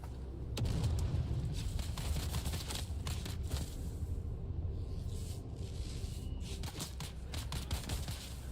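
A grenade goes off in the video game Dune Awakening, a loud dense burst of booming, crackling blasts that rolls on continuously with sharp hits throughout, no talk over it.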